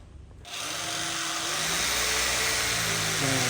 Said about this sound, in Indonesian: sebelahnya lagi kita bor ya